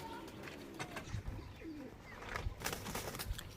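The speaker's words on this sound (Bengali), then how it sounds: "হ্যাঁ, 3টে গিরিবাজ আছে" Cooing of Giribaz high-flying pigeons kept in a cage, a steady, soft, rolling murmur that carries on for several seconds, close by and with no talk over it.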